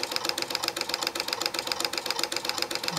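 A homemade pulse motor spins fast with a rapid, even mechanical chatter of regular pulses, close and steady throughout.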